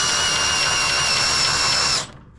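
A brushless drill whirs steadily at close range, driving the jack of a Gen-Y Mega-Duty 32k trailer drop hitch, then cuts off abruptly near the end.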